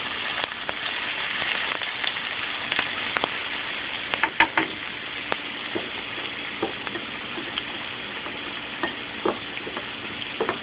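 Aromatics and seasoning frying in a pan for Jamaican ackee and saltfish, a continuous close sizzle with scattered sharp pops and crackles throughout, no voices.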